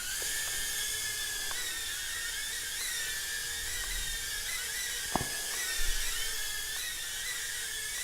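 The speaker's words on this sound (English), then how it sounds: "What a great little quadcopter." An ATOYX AT66 toy quadcopter drone flies with a steady high-pitched whine of small propellers, holding even and continuous throughout, with a brief click partway through.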